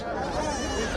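Goats bleat at a busy rural goat and sheep market at Ferighat, a short close call rising over steady crowd chatter and nearby voices talking.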